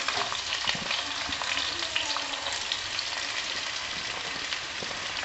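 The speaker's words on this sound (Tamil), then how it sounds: "ஆனியன் வந்து ஃபுல்லாக ஃப்ரை ஆகணும்னு" Onions sizzling and frying in a pan over cumin seeds for paneer jalfrezi, a steady close crackling hiss with occasional stirring scrapes, no talking.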